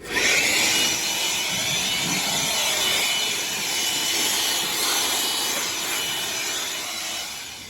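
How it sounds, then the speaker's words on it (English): Compressed-air blower hissing steadily as it blasts dust off a very dirty K&N air filter, a loud continuous rushing noise with slight swells, close and alone with no talking. "Get the blower and we'll blow some of the dust off first."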